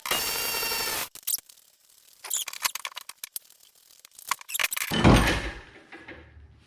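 A ratchet with a 32mm deep socket on a 1/2 inch drive works a bolt loose on the rear differential of a 2018 Mustang GT: a sustained whir, then clicks, clanks and one heavy final thunk, close and alone.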